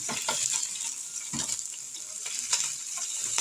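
Burgers fry in a pan with a bright, crackling sizzle that runs continuously, punctuated by a few sharper pops and spatula scrapes, close and clear with no talking.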